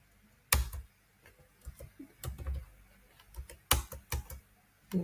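Keys clatter on a computer keyboard in irregular bursts, a few sharp louder strokes among softer scattered taps, close and dry with quiet gaps between.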